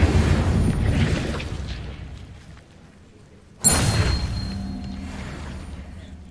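An Incendio fire spell cast in Hogwarts Legacy: a loud, abrupt fiery burst and whoosh that decays over a couple of seconds, followed by a second sharp blast that rumbles and tapers off, with no talking.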